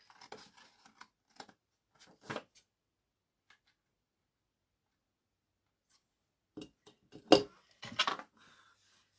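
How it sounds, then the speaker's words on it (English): Scissors snipping close up, a few quick cuts at the start, a quiet pause, then a cluster of sharper, louder snips near the end. "Just cut with the scissors here real quick."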